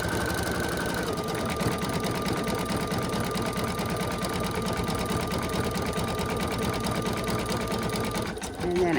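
An embroidery machine stitches around the pocket of an in-the-hoop card holder, a steady rapid mechanical chatter running throughout before cutting off at the very end.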